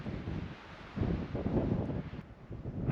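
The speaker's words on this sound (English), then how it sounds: "I kind of want to get off this summit and get out of this wind" Gusty wind buffets the microphone on an exposed mountain summit in Rocky Mountain National Park, a loud, close, rushing roar that swells and eases in waves with no voices.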